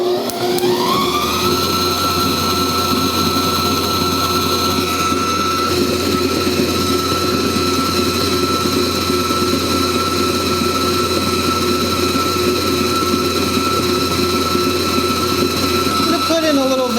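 An Aumate tilt-head stand mixer, 8.45 quarts and 660 watts, spins up and runs with its paddle, producing a steady high motor whine with tonal hum, close and loud for the whole stretch before winding down at the end.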